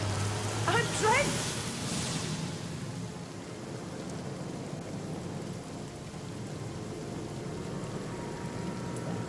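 A water rain spell in the video game Divinity: Original Sin Enhanced Edition brings a steady, dense downpour hissing throughout, loud and continuous, with a brief voice near the start.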